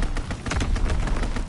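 Fighter plane strafing run in Call of Duty: WWII, a dense, continuous burst of rapid gunfire filling the whole moment at steady loudness with no talk.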